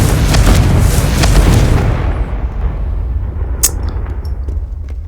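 A Confringo spell explosion in the video game Hogwarts Legacy, a loud close boom with a rumbling burst that fades over a few seconds into a low lingering tail.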